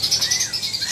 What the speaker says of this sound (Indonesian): Ini gacor juga burung, ya?